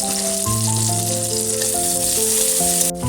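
Chopped tomatoes with salt frying in a pan for a vegetarian ghugni, giving a loud, continuous close-up sizzle with faint stirring and a steady musical tone running underneath.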